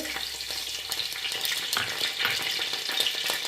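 Bay leaves fry in hot oil and ghee for a creamy chicken pulao, giving a close, continuous crackling sizzle with light stirring scrapes throughout and no voices.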